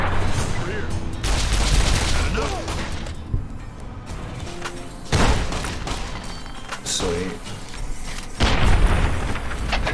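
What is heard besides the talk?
gunshots in the video game Fallout: New Vegas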